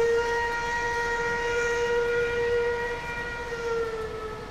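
A train in the Farming Simulator 19 video game sounds a long, steady horn, a sustained multi-tone blast held for several seconds at close range with nothing else over it.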